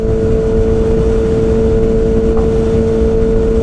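A 2019 Kawasaki Ninja ZX-6R fitted with a full M4 GP exhaust cruises in sixth gear at about 70 mph, giving a loud, steady engine drone mixed with constant wind rush, with no change in pitch throughout.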